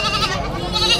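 Goats bleating at a busy livestock market, several overlapping cries close by against a dense bed of crowd noise and general market bustle.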